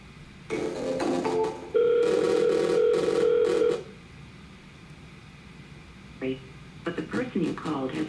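A cold call is dialed with a rapid run of touch-tone beeps and a sustained tone, then a lull. A brief beep follows, then a stretch of voices.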